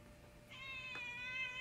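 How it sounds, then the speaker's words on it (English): A single cat meow in the Little Nightmares video game, a clear tonal, drawn-out cry that begins partway in and holds to the end, fairly quiet over a low ambient hum. "Oh, kitty."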